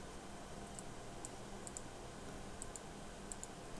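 Faint, sparse keystrokes on a computer keyboard as an IP address is typed, a few light clicks spaced irregularly over a quiet hiss.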